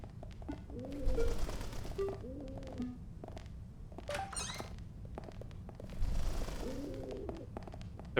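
Pigeons in the Neon Struct game coo in repeated soft, throaty phrases, several separate calls spaced across the scene, fairly close, over a low ambient hum and a few faint clicks and thumps.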